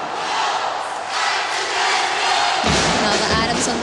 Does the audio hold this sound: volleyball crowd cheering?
yes